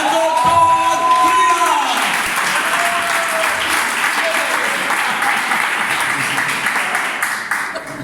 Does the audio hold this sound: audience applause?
yes